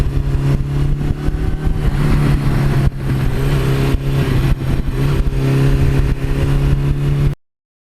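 A 1982 Suzuki GS1100E motorcycle engine revs close up, a loud, continuous throaty roar with rising and falling throttle blips before cutting off abruptly.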